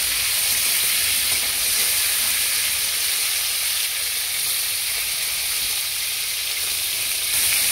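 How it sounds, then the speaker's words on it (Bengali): Crabs frying lightly in hot oil, producing a loud, continuous, close-up sizzling hiss that stays steady and unbroken for several seconds. "তেল গরম হয়ে গেছে, হালকা করে ক্যাঁকড়াগুলো ভেজে নেব।"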